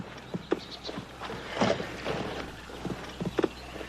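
Irregular hollow clip-clop of horse hooves on hard ground, a handful of close knocks spread across a few seconds over faint background noise.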